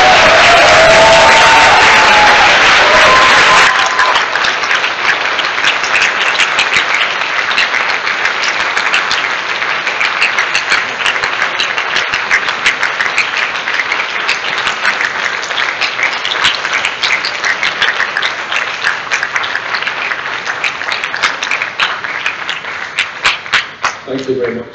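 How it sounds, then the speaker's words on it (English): Graduates at a university graduation ceremony clap, whoop and cheer together in a loud, sustained ovation of about twenty seconds. A brief spoken countdown comes first, then a thick roar of hands and shouts. "I want you to clap, whoop, cheer as hard as you can to thank them"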